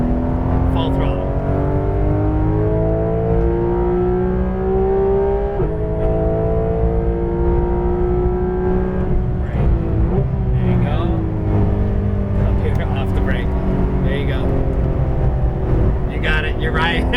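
Porsche 911 GT3 RS (991) at full throttle on a race track, engine note loud and continuous with rising gear sweeps and shifts, a driving instructor talking over it throughout.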